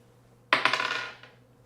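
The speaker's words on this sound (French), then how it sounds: "Je vais jeter mon dé et on va voir ce que ça donne." A single die thrown onto a hard surface, landing with a sharp clatter and a short burst of rattling bounces that fade out over about a second, close and alone.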